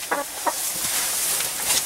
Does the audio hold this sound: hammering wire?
no